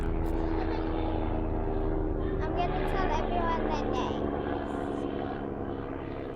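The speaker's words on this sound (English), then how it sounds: "there's a helicopter going over" A helicopter passes overhead with a steady low droning rumble that holds throughout, partly under a person talking nearby.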